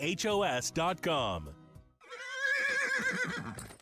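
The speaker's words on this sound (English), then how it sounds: "Is that a horse? Actually, it's a wild stallion." A wild stallion neighs loudly and close, a long whinny with rising and falling pitch, following an opening of clear voice-like harmonic sound.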